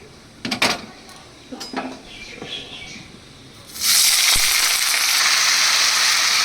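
A few clattering knocks and scrapes, then a sudden loud, steady sizzle as potatoes start frying in a hot pan, hissing continuously to the end.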